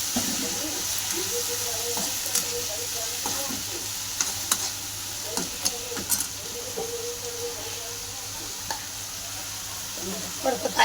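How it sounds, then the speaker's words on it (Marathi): Dried onion sautéing in a pan gives a soft, continuous sizzle with occasional stirring scrapes and clicks, fairly quiet throughout, with faint background voices. "ते सुकं कांद्याचं पण मस्त परतून घेऊ"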